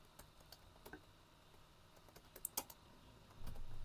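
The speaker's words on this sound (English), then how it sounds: "I'm really bad at typing, so give me some time." Quiet, irregular keyboard typing, a few scattered keystrokes followed by a quick burst of clicks, with a low rumble rising at the end.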